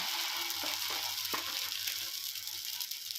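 Dosa batter sizzles in hot oil on a pan with onions, a steady dense frying hiss close by with faint low hum and a few small scrapes, no talking.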